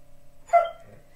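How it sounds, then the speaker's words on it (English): A single loud dog bark erupts close by in a quiet room, a sharp yelp with a brief tail, then a soft whimpering trail. "Sorry, that is my dog that is really"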